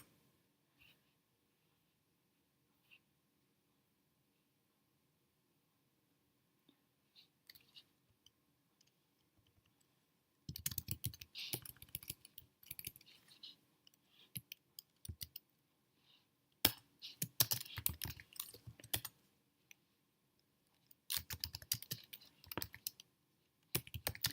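Password typed on a computer keyboard, quiet near keystrokes in short irregular bursts with pauses between, no talking.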